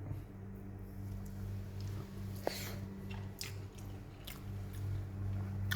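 Close, quiet chewing of a mouthful of rice mixed with fish curry, soft wet squishing and biting sounds over a low steady background hum, no speech.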